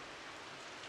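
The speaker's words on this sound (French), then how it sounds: "On n'entend que le doux bruit de la pluie" Soft, steady rain falls in the Rise of the Tomb Raider game, an even, gentle hiss of drops throughout the short moment with no other sounds.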